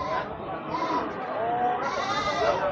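Goats bleat amid the crowded bustle of a livestock market in Kebumen, their cries rising over a steady din of voices and trading chatter.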